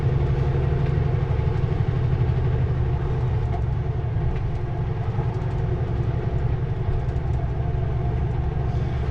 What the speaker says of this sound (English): Nice long empty coal train.